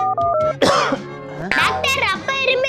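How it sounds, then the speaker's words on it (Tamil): A man coughs in harsh, throaty bursts, two strong coughing fits close up and loud, with brief voiced sounds between them. "அப்பா இப்படி இரும்புறாரு."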